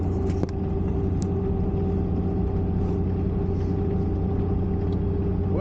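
Vehicle engine running on the road while heading out to pick up a trailer, a steady low rumble with even hum throughout and no talking.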